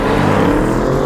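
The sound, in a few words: 2020 BMW M550i launching with launch control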